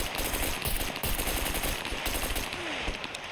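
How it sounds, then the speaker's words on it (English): Machine gun fire in the survival shooter Scum, rapid sustained bursts of automatic gunfire crackling at a moderate distance, continuous throughout with no talk. "The direction of all the gunfire."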